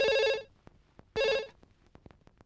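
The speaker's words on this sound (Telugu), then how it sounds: "సత్యం, గంట మోగింది." A telephone rings in two loud electronic bursts separated by a short pause, followed by faint clicks and quiet knocking.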